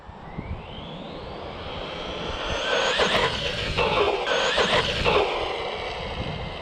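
An Arrma Big Rock V3 RC truck at full throttle at a speed jump spot, its high motor whine climbing steadily in pitch and growing louder, then wavering as it runs away into the distance.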